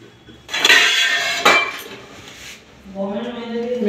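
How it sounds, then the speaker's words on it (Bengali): A metal vessel set over a bowl of dough for luchi, two clanking metallic impacts in quick succession followed by a ringing, fading resonance, close and loud. "এবারে আমি এটাকে একটা পাত্রের সাহায্যে ঢাকা দিয়ে"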